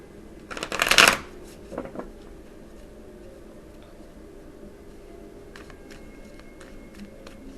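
Tarot cards being shuffled near the mic in a crisp riffling burst, followed by a softer shorter shuffle and quiet card handling.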